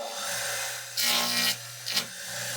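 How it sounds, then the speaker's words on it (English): A decades-old dado blade cuts through wood for a cigar box guitar build, giving a steady rasping whir with two louder bursts as the blade bites into the stock. "That's a dado blade."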